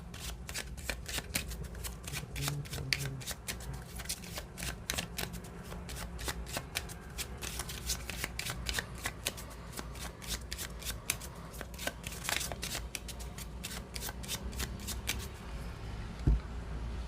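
A Cigano (Gypsy) tarot card deck is shuffled repeatedly up close, a rapid run of crisp riffling card flicks that continues almost without pause.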